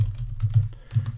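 Close, quick keystrokes tapped on a computer keyboard in a short, uneven burst, soft and clicky with no voices.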